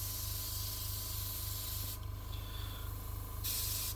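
Airbrush spraying thinned-down acrylic paint while weathering a Bandai A-wing model: a steady close hiss over a low constant compressor hum, with bursts of brighter airflow as the trigger opens wider.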